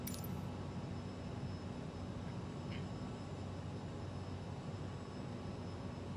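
A steady, broadband airliner engine roar on landing approach in a flight simulator game, continuous and even, with a faint low drone underneath and no talking.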